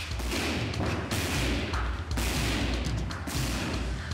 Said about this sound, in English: Baxter's kicks are, whoa, amazing. I mean, you hear how loud they are.